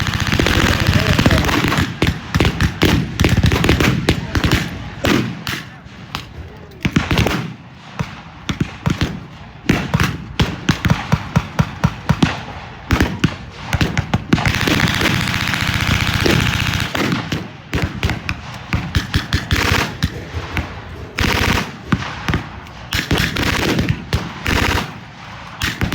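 Machine gun fire from a German half-track in a WWII battle scene, loud rapid bursts repeating with brief gaps over nearly the whole stretch, mixed with other gunfire and a voice talking.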